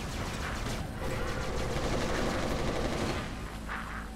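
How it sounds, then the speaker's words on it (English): The Reaper gun in the game Resistance Retribution fires continuously, a fast rattling stream of shots with a mechanical clatter that holds steady throughout. "the sound of the Reapers were so intense"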